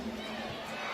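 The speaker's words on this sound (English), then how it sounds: "Massive crowd here in attendance for the Cygnett WNBL." Large crowd at a WNBL women's basketball game in John Cain Arena, a steady dense roar of voices and shouting that fills the whole second without a break.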